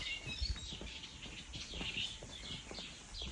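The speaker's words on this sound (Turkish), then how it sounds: "Kuşların cıvıl cıvıl sesleri." Birds chirp in quick, high bursts at 3:45 am on high ground beside Eğil, Turkey, over a steady outdoor background, with no one talking.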